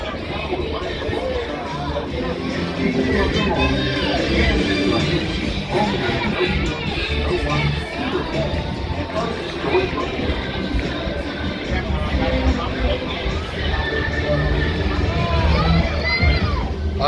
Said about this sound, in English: See, look at this crowd right here.